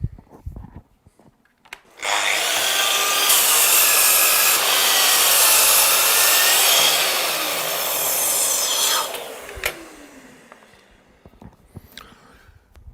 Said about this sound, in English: switch the machine on, and then we can remove the piece of timber away from the end of the board